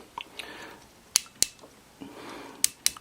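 Ratcheting shoulder joints on a die-cast toy action figure give a few sharp, close clicks, scattered singly and in pairs over a quiet moment.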